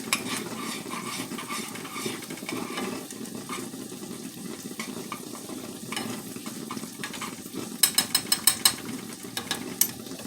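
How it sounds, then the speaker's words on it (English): Grits stirred in a pot, a continuous close scraping and swishing with soft bubbling, ending in a quick run of sharp clinks from the spoon against the pot; no one talks. "Stir these grits."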